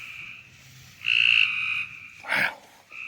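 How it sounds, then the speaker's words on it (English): A western narrowmouth toad calls on a rainy night, giving a few nasal, buzzy calls at close range over a soft, steady background of rain and night noise. "pretty sure that's a narrowmouth toad"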